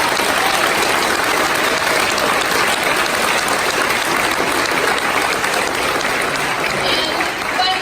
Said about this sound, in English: So we'd like to give them a round of applause too.